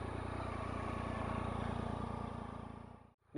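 A 2014 Triumph Tiger Sport fitted with a high-level SC Project exhaust runs with a steady, pulsing engine drone that holds evenly, then cuts off abruptly just before the end.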